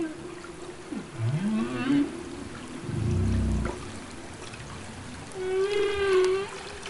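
Humpback whale social calls recorded underwater: several separate moaning, swooping tonal calls with rising and falling pitch, one with a low grunting rumble, over steady hiss of ocean background noise.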